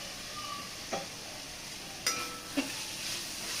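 Crushed ginger, green chillies and garlic sauté in oil for a Kerala-style beef curry, giving a faint, steady sizzle broken by three brief stirring clinks of a spoon against the pan.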